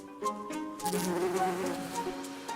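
A yellow-faced bumblebee buzzes at a flower, a close, steady droning hum that wavers in pitch as it moves, heard alone without talk.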